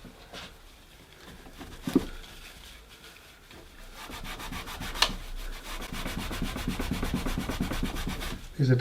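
Everbuild multi-use Wonder Wipes, wet and non-abrasive, rubbed over a workshop surface: soft, close wiping strokes that start light and grow into steady continuous rubbing, with a few small knocks.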